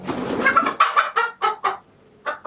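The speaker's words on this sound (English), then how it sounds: "That chicken is annoying." A hen clucks up close in a goat barn, her calls coming as a burst of short, choppy clucks and then a few evenly spaced single clucks with brief pauses, loud and clear with no talk.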